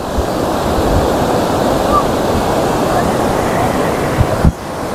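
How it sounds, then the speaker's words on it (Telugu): Waterfall near Adilabad, a dense continuous rush of falling water, loud and close, with wind buffeting the microphone and a brief bump near the end. "బ్యూటిఫుల్ వాటర్ ఫాల్ సౌండ్ వినిపిస్తుంది నాకు"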